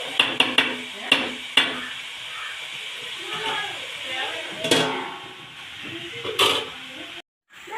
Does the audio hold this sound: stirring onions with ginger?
yes